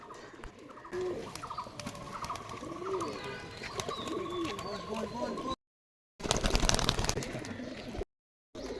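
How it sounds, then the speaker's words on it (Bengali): Pigeons crowd together drinking water at a home loft, with soft repeated cooing and bird calls near the microphone, broken by brief gaps and bursts of handling noise. "কবুতরগুলা পানি খাচ্ছে, কি সুন্দর"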